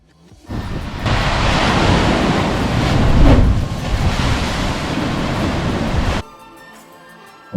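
Ocean waves crash into a rocky spout along the Maine coast and shoot water up. A loud, sustained roar of surf swells and peaks, then cuts off abruptly, leaving faint background.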